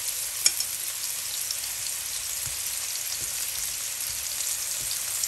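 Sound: eggplant slices frying in a pan

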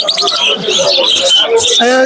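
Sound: pet birds at Mirpur 1 bird market

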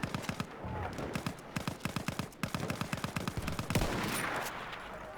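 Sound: machine gun fire in the video game Battlefield 1

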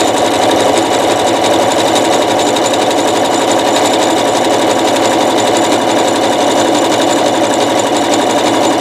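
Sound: zigzag stitch sewing machine sewing a rope bowl

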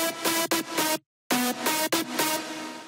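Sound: synth leads with percussion, FL Studio drum and bass

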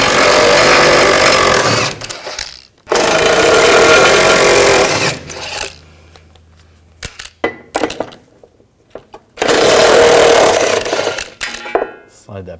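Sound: removing exhaust bolts with a 15 millimeter socket on a Ford Escape

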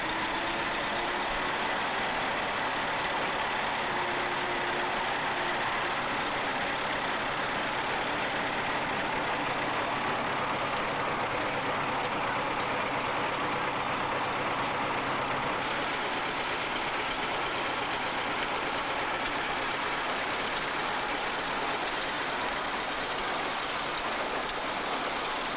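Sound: vintage Fordson tractors driving an oat thresher and baler

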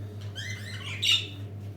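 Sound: budgerigars chirping

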